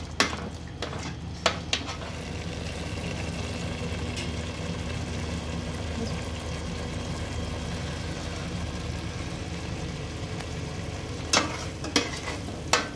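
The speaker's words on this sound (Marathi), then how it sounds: "आता आपण हे सर्व मसाले या वाटपाबरोबर एकजीव करून घेऊया आणि 1-2 मिनिटं व्यवस्थित शिजवून घेऊया वाटपाबरोबर।" A spice masala paste being stirred and cooked in a pan for a taro-leaf curry with tamarind and jaggery, giving a steady low sizzle with a few sharp scrapes and clinks of the spoon against the pan near the start and end.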